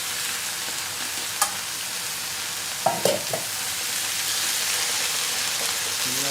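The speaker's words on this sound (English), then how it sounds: "I'm going to stir in the cilantro." Fideo noodles with tomatoes and adobo fry steadily in a pan while cilantro is stirred in, a continuous close sizzle broken by a few brief scraping stirs of a utensil.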